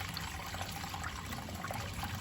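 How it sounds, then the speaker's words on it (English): Soapy water pouring out, a continuous watery rush and trickle with a hissy, broadband texture, steady and moderately close with no talk. "Was that soapy water that just came out, Mum?"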